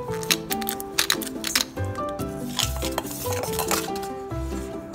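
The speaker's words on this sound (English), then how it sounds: "I added the smelt, and I'm now tossing it with the cornstarch, making sure the smelt is covered by the cornstarch." Smelt tossed in cornstarch in a dish produces a busy run of light clinks, taps and dry rustling, close and fairly quiet, with no talk.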